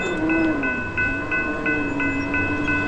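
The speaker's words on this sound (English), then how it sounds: "I'll come back to this after the train leaves." A train passes close by near the tracks in Williamson, West Virginia, with a loud steady rumble of rail cars, a sustained tonal whine and regular clicks of the wheels over rail joints.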